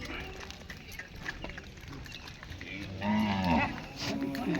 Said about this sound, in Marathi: हा आहे पुसदचा बैल बाजार